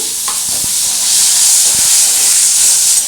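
Chopped onion hits hot oil for a Bengali lau chingri (bottle gourd and shrimp) dish, setting off a loud, steady, close sizzle and hiss that runs throughout with a few soft stirring knocks.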